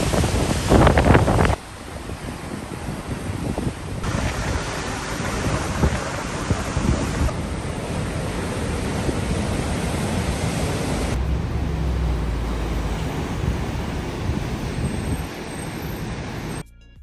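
Sea waves along the Sydney coast, a broad continuous roar of surf with a heavy wind-buffeted rumble, loud and close, shifting in intensity as waves surge and recede, with no voices.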